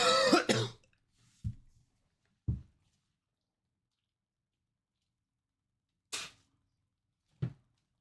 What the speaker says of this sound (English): I hate having a cough so much.